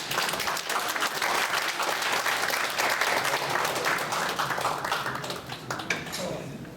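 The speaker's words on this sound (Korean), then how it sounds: "여러분 박수 보내주시기 바랍니다" Sustained audience applause at a Korean lecture, a dense crowd of clapping that holds steady for several seconds and then starts to taper off.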